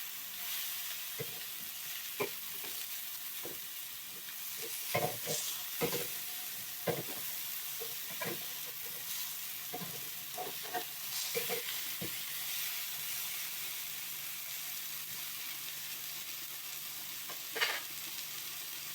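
Chicken kofta sizzling and frying steadily in a pan, a constant soft crackle with occasional louder pops and stirring clicks, close and alone.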